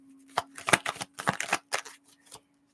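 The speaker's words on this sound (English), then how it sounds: "When I was shuffling the cards" Tarot cards being shuffled by hand in a series of quick riffling bursts with short pauses between them, close and moderately loud, with a steady low hum underneath.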